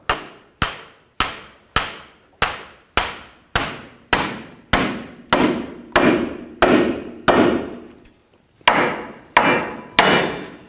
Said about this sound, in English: You can take a hammer and try to break it free that way, or take a pickle fork